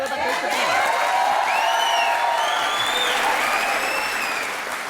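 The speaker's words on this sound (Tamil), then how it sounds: "உண்மையிலேயே இவங்க எல்லாரும் ரொம்ப நல்லாவே கைத்தட்டுறாங்கன்னு" Sustained studio audience applause on a Tamil-dubbed Aap Ki Adalat courtroom-style talk show, dense and steady with scattered whoops and cheers rising through it, loud and close for the full duration before easing slightly at the end.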